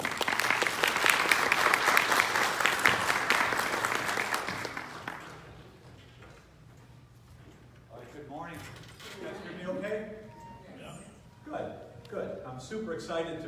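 Keynote audience at an EntreEd 2018 event applauding to welcome the speaker, loud sustained clapping that fades out after about five seconds, followed by someone talking.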